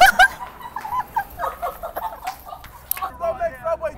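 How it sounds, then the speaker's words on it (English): A dog yips and whimpers in short, excited bursts close by, with people talking and laughing over it. "Oh, look at the dog."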